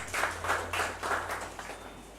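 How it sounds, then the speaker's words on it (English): An audience at a Rotary Club keynote event breaks into a round of applause, heard as a few swelling pulses of clapping that fade away over about two seconds. "A big round of applause"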